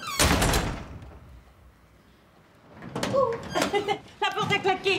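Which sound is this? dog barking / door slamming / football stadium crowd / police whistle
door slamming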